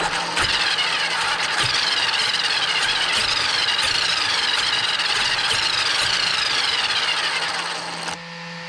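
Traxxas X-Maxx 8S RC truck with a newly replaced spur gear assembly, its motor and gears revving in a steady loud high-pitched whine with pulsing surges for about eight seconds, then cutting off abruptly.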